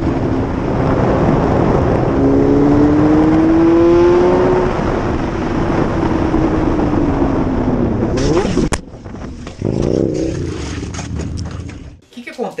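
A Suzuki Bandit motorcycle engine revs loud and close as it is ridden, a steady roaring drone with rising pitch sweeps, then a sudden cut and a rougher burst of noise before it drops away near the end.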